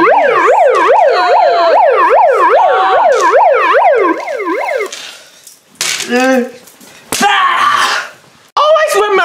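A loud warbling siren from a bullhorn wails in rapid up-and-down sweeps, then cuts off as voices break in with short exclamations.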